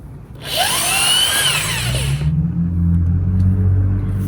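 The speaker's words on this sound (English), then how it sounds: "So I'm just using an electric drill to unscrew the screws that hold this fence together." An electric drill whirs loud and close as it backs screws out of a wooden fence, its high whine rising and falling over a steady low motor rumble.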